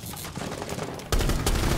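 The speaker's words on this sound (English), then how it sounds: "I'm shooting." Gunfire in a multiplayer shooter video game, a quieter stretch followed by sudden loud, rapid bursts of shots close by, with no speech over them.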